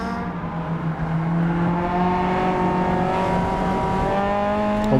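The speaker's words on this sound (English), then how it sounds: "On board with Anderson here" On-board engine of a Honda Civic racing in the Civic Cup at Silverstone Circuit, a loud sustained drone with climbing and falling pitch as the driver works through the gears.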